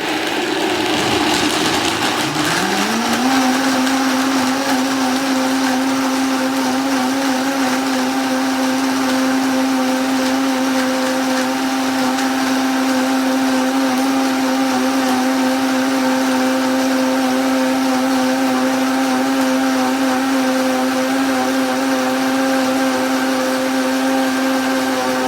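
A refurbished high-powered blender whirs up to speed and holds a steady, loud motor drone while blending food, continuous and close with no voices.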